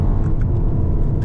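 A 2025 BMW 118 M Sport accelerating at full power, heard from inside the cabin as a loud, steady low engine and road rumble.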